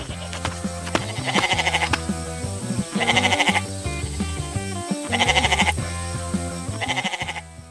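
A white goat bleats behind a wooden fence on a farm: four short, wavering bleats at a steady pace over a soft, continuous musical background.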